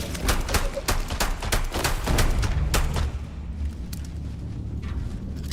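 Rapid gunfire from a sci-fi space shooter, Starfield, a dense burst of loud close shots that thins out after about three seconds.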